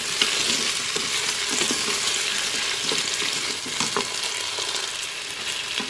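Potatoes sautéing in a Cookeo multicooker sizzle loudly and continuously, with soft scraping and occasional light knocks as they are stirred.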